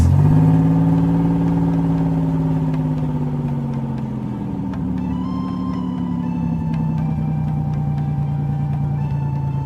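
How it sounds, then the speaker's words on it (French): Cartoon toy cars racing in a children's animated show, a steady revving engine drone that holds loud throughout with slowly shifting pitch, with no talking. "les voitures peuvent maintenant faire la course."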